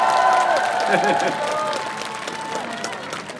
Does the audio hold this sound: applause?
yes